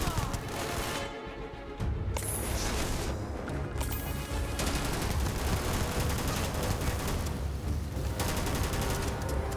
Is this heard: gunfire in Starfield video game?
yes